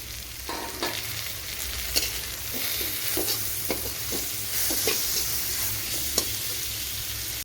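Onion and tomato sauté in a pan for an egg dish, a steady close sizzle broken by light, irregular clicks and knocks of stirring.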